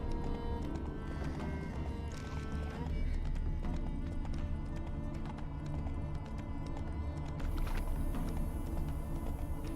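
Roach, Geralt's horse in The Witcher 3, clops along with a steady rhythm of hoofbeats over a low rumbling game soundscape, with a brief whinny rising early on.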